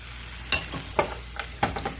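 Quinoa and cashews frying in a hot pan, a steady soft sizzle with a few sharper stirring scrapes and clatters spaced through the short stretch.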